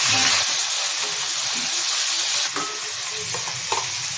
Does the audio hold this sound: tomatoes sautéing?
yes